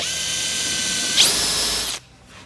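Power drill boring a small starter hole in wood for a live edge coffee table bowtie inlay: a steady high motor whine that rises in pitch as the bit bites, holds for under a second, then cuts off abruptly.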